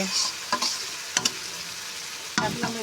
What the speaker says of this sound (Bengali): সবগুলা দিয়ে মিক্স করে সুন্দর করে কষে নিচ্ছি দেখেন কষা পোড়ায় হয়ে গেছে